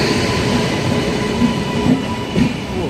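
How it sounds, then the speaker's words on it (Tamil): The Nagercoil–Coimbatore passenger train rolls past close by, a loud continuous rumble of wheels on rails with rhythmic clacks and faint squeals from the carriages. "Nagercoil Coimbatore passenger train."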